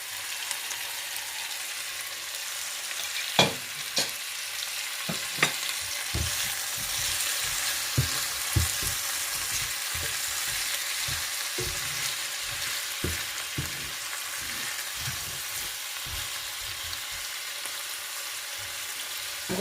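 Prawns seasoned with all-purpose and Maggi fish seasoning frying in a pan, giving a steady close sizzle broken by scattered pops and crackles.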